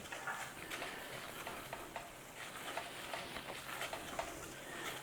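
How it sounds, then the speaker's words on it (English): Egg sauce with a little Colman's mustard is stirred in a pan, giving faint repeated scrapes and taps over a low, continuous sizzle, with no one talking. "Stir it through."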